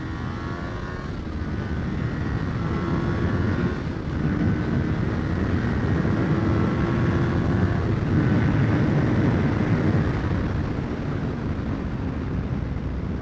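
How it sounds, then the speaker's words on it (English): A 2024 Kawasaki Ninja 500 motorcycle engine pulling at low RPM in third gear on a canyon ride, a steady loud drone with wind rush throughout, continuous and close. "even though I'm a little low on RPM right now in third gear, I still have enough power to pull out"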